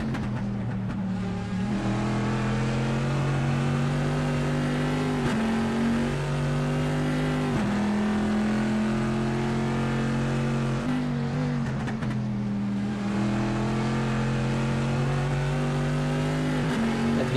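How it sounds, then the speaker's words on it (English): A V8 race car engine at Road Atlanta holds a loud, steady, high-revving drone, and its pitch sweeps up and dips a little at each gear change, with no talk over it. "That V8 sounds like freedom if you ask me."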